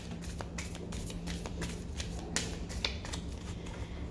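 A tarot card deck is shuffled close by, with soft riffling and papery flicks, quick repeated card taps and a couple of sharper snaps over a quiet background.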